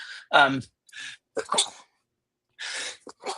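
A single sharp sneeze bursts out close to the microphone, followed by scattered breathy sounds and brief speech.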